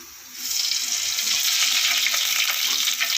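Loud, continuous crackling sizzle of mustard seeds frying in hot sesame oil, with dense popping and spitting throughout.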